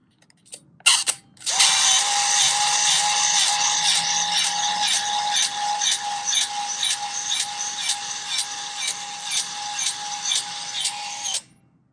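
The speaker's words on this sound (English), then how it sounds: "You can hear the autofocus." Autofocus motor of a Nikon L35AF compact film camera, empty of film, whirring with a steady high mechanical buzz and faint rhythmic ticking for about ten seconds, close and alone, after a brief click at the start.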